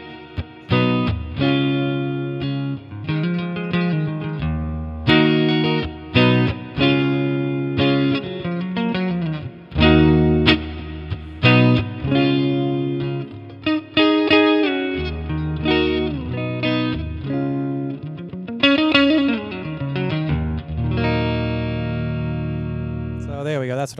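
Clean electric guitar through a Line 6 Catalyst amp with plate reverb, chords and single notes ringing out with lush trailing decay, played alone without talking.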